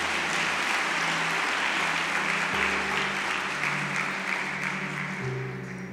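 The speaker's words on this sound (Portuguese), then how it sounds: "Dá uma salva de palmas para Jesus." A church congregation applauds Jesus in a steady, sustained wash of clapping over a low tonal hum from music or instruments, moderately loud throughout.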